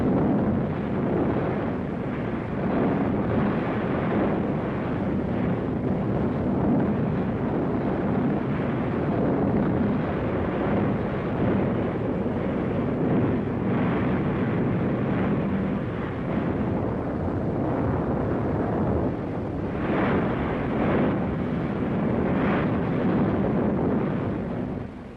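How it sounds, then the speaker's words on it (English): Katyusha rocket launchers firing in World War II archive footage, a sustained loud roaring rumble of volleys and blasts lasting throughout, with no speech over it. "Rocket guns, Katyusha, the Russians call them."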